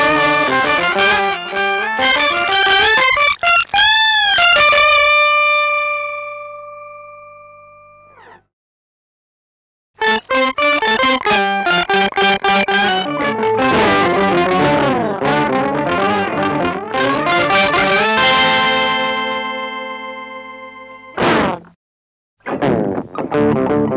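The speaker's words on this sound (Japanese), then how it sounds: "厚みのあるギターサウンドを得られるオクターバー、オクトパスが登場。" Electric guitar played through a ROWIN Octpus polyphonic octaver pedal with three modes, producing thick doubled notes from deep sub-octave bass to synth-like tones; loud sustained chords and single-note runs with brief silent gaps, no talking.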